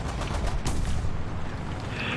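M42 gunfire in a World War II tank video game, heard as a dense, loud wall of rapid firing that runs continuously through the short clip with no talk.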